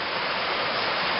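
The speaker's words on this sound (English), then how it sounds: "Creek's practically half flooded from the storms." Rushing water from a creek swollen and half flooded after storms, a steady broadband roar filling the whole stretch with no voices over it.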